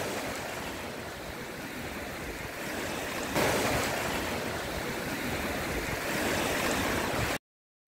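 Sea waves wash steadily onto the shore at Port Said, a continuous broad surf roar with a slight swell in loudness midway, mixed with some wind noise and no voices.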